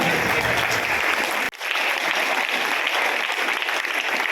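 A crowd applauding loudly and continuously, with a brief drop in the clapping before it resumes at full strength.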